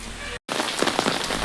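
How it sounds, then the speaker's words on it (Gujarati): Heavy rain pounds steadily on surfaces in a dense, close hiss that cuts out for a split second before resuming at full strength. "12 વાગી ગયા છે તો પણ વરસાદ બંધ થવાનું નામ લેતો નથી"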